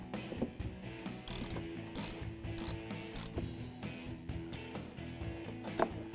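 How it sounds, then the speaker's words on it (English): A 13mm wrench tightening bolts on a Jeep Wrangler bumper-mounted light bar, giving rapid ratcheting clicks in repeated bursts, close and fairly quiet, with no talk. "Tighten everything down with a 13mm wrench and a 5mm hex key."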